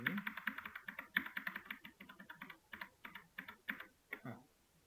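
Keys tapped on a computer keyboard while Java code is written, a quick irregular run of clicks and clacks close by, with faint speech in the background.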